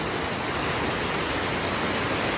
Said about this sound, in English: Cascade Falls is not as beautiful as this one, but a waterfall is a waterfall.